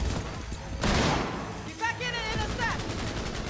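Gunfire in Cyberpunk 2077 crackles in rapid bursts aimed at the player, dense and loud across the whole moment, with whooshing effects layered in and no clear talk over it.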